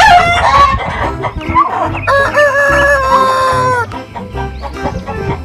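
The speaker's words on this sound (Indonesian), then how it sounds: "ternyata ini hewan jago" A rooster, shown as a farm animal loaded onto a trailer truck in a children's cartoon, crows loudly and closely, with clucks and shrill bursts layered over a busy background of music and effects.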